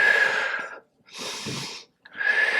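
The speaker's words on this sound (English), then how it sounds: "Just breathe. Deep inhales." Deep, slow breaths during an advanced reformer Pilates exercise, a long exhale, a softer inhale and another exhale, close and breathy with short silent pauses between.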